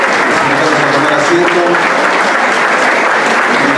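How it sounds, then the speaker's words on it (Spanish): Loud, dense applause from an audience at a school event, a continuous wash of many hands clapping without pause, with a few voices faintly mixed in. "Y con un fuerte aplauso también despedimos al señor ministro de Educación, Gabriel Sánchez Siri."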